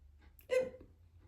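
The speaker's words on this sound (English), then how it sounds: "hiccup." One short, sharp hiccup, close and fairly soft, alone against faint background hum.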